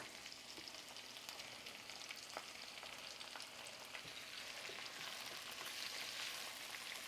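Large frozen shrimp frying in a pan for an Indonesian spicy shrimp dish, a steady, faint hiss and crackle of sizzling oil with occasional sharper pops, no voices.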